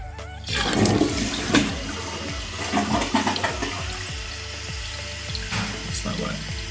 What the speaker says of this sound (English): now we're gonna check our flushing and see if it's how properly flush.